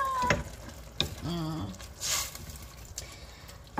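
Spoon stirring ginataang labong, bamboo shoots in coconut milk with saluyot, in a pot: a few scraping clinks and a soft bubbling simmer, fairly close, with a brief unclear vocal sound.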